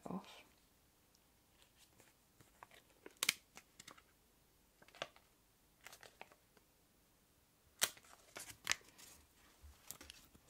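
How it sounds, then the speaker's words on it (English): A sticky sheet peels off a clothes lint roller from a hotel vanity kit: close, quiet crinkling and tearing bursts at irregular intervals over a hushed background. "So this basically is a clothes roller type thing. So as you peel it off."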